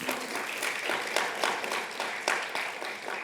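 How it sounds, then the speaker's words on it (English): An audience applauds steadily in a lecture hall, many hands clapping together in a moderately sized room for a few seconds. "And a round of applause for Max while I take some water."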